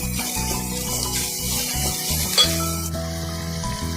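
Sliced onions sautéing with salt in a frying pan, a steady close sizzle with occasional stirring scrapes and a light clink of utensil against the pan.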